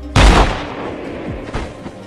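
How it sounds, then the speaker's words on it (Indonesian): A single loud, close gunshot from an action film cracks sharply and then decays into a rumbling tail, followed by a fainter thud. "driver pun menembaknya."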